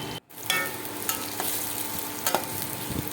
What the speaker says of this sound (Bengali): নাড়াচাড়া করে পেঁয়াজটাকে ভেজে নিতে হবে